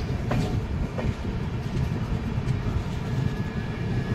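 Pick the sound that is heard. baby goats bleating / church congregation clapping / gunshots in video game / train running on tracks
train running on tracks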